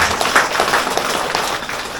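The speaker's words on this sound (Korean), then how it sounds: "박수로 부탁드리겠습니다" Applause from the audience at a park golf beginners' training lecture as the instructors are introduced, a short steady patter of clapping that fills the room with no speech over it.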